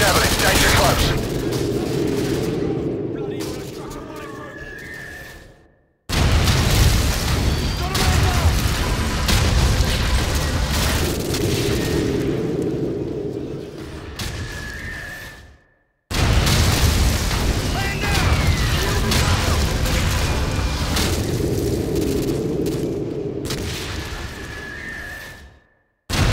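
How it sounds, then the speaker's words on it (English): Heavy, rumbling blasts and booming explosions from a Javelin missile launch in Call of Duty: Modern Warfare 2 (2009), returning in three long loud surges separated by brief silences, with a thin whistling tone near the end of each. "Firing javelin. Danger close."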